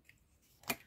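Scissors snip once through paper during bookbinding work on a transparent zigzag album, a single quiet, crisp cut close by near the end of a near-silent moment.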